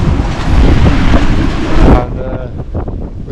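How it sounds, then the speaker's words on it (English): Gusting wind of about 14 to 15 knots roars across a heeled-over sailboat at sea, a loud steady rush for two seconds that drops off abruptly to a quieter wash of water and breeze. "14 knots of wind, gusting"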